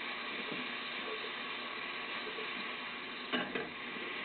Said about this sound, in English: And then you just stir that up real quick.